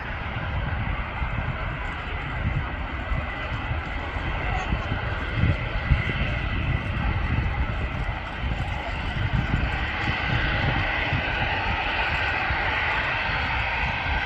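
An EasyJet Airbus A320 airliner taxis out at Manchester Airport, its jet engines giving a steady, loud broadband roar with a low rumble throughout, and people talk over it.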